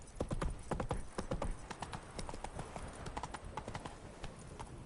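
Hooves of Roach, the horse in The Witcher 3: Blood and Wine, beat out a brisk trot, loud and close at first, then settling into lighter, quicker clip-clops.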